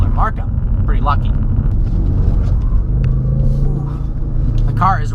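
A 2016 Ford Focus RS being driven, its engine giving a loud, steady low rumble with continuous road noise, while someone talks over it throughout.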